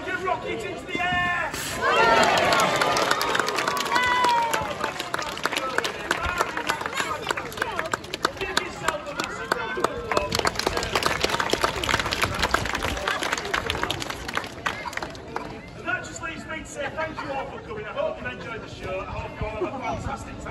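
An audience at a sea lion show claps and cheers, a crowd of voices and applause that rises sharply after a few seconds and continues under an announcer's talk.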